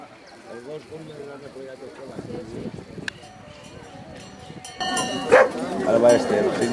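A dog barks and yips several times at a ranch near Buenos Aires, mixed in with people talking, with louder commotion and rustling building toward the end.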